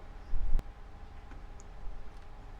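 A single sharp click from a computer mouse, close and fairly clear, with a low thump just before it, a faint tick or two afterward, and a quiet steady hum underneath.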